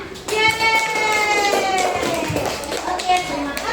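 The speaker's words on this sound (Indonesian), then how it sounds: "kasih tepuk tangan" Children in a classroom clap briefly while young voices chatter and call out over and between the claps.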